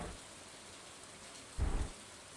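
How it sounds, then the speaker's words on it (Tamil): Steady heavy rain hiss from the video game Stardew Valley, broken by one short, deep thunder rumble near the end, with no talk. "காலைல 7:30 மணிக்கே செம மழையாக இருக்குது ஊரில்"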